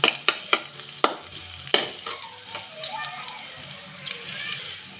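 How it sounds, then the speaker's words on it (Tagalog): Garlic frying in a home kitchen pan for prawn sinigang: a few sharp utensil taps at the start, then a lively crackling sizzle that settles and fades, heard up close. "So, ilalagay natin yung bawang. Hintayin lang natin siyang maging brown."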